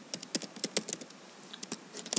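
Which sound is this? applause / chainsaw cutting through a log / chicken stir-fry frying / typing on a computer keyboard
typing on a computer keyboard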